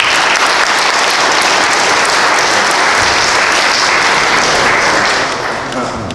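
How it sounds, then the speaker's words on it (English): Audience applause at a church service, loud and dense clapping that fills the room close by and holds steady for several seconds before tapering off at the end. "Let's give him a round of applause."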